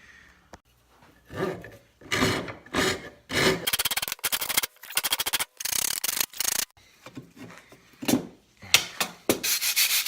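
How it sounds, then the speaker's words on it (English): A rasp works a carved maple kuksa in repeated rough scraping strokes, each a short gritty burst with brief pauses between, close and fairly quiet, with no voices. "I think more rasping is going to be involved here."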